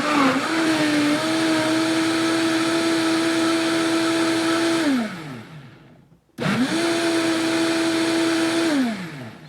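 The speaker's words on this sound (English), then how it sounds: "that's a powerful gadget, this Vitamix is" A Vitamix blender pulses ingredients seasoned with black pepper, a loud close motor whine that spins up, holds steady for about five seconds and winds down, then a second pulse repeats the same rise, hold and fall.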